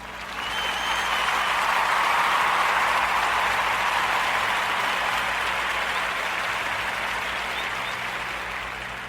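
Big, sustained applause from a large audience, swelling quickly and holding steady before slowly fading at the end.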